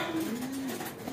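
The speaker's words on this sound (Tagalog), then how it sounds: "Pagka mga ganyan, mga Abel, medyo violente tayo sa mga ibon natin pag nagtuturo tayo" Domestic pigeons coo in a steady, close, continuous call while birds are being trained to return home to their loft, with faint outdoor background noise.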